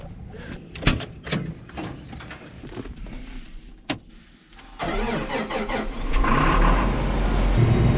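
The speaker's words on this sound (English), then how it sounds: "going 30 mile an hour on a tractor is pretty nice" A high-horsepower farm tractor revs and drives at speed, engine growing louder and steadier after a few sharp knocks and clunks, with strong rumbling noise building toward the end.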